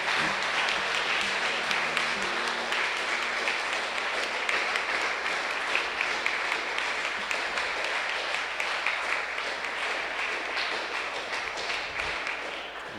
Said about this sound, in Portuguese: Aplaudam o Senhor.